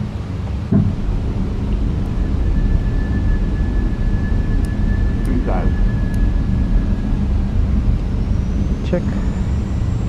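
Landing gear extending on an airliner approaching Lisbon: a loud, steady cabin roar with a few brief mechanical clunks and thumps over it.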